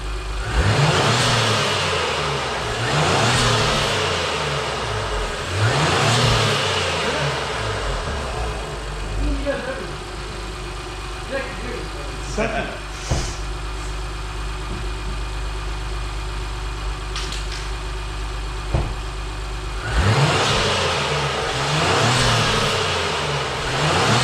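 An Acura TLX Type-S engine with performance upgrades revs hard in several loud, rising bursts, settling into a rumbling idle between them before revving again near the end.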